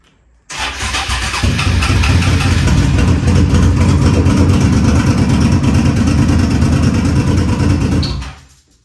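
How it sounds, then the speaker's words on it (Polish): A motorcycle engine fires up on the starter and settles into a loud, steady idle that runs close by for several seconds, then cuts off abruptly. "Odpalę motocykl, żeby sprawdzić, czy kontrolka ciśnienia oleju zniknie."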